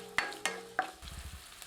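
Finely chopped large onion sautéing in hot oil in a pan, with a few sharp clinks of a spoon against the pan and a soft sizzle beneath.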